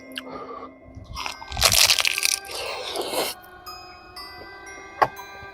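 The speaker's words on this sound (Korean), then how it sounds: "한 입 먹어보도록 하겠습니다" Someone bites into a snack filled with tuna and bacon, giving close, loud crunching and crackling bursts of chewing in the middle, then a single sharp crack near the end, with no speech.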